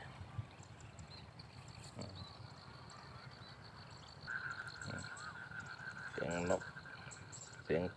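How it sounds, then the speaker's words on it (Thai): Faint frogs croak outdoors beside rice fields after rain in scattered short bursts over a soft natural background, with a steady insect-like trill and occasional bird calls. "เขียดเสียงกบร้อง"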